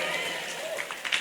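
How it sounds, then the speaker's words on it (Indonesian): Applause for team B from a crowd at a village children's group event, a brief steady wash of clapping with some voices mixed in. "Tepuk tangan untuk regu B"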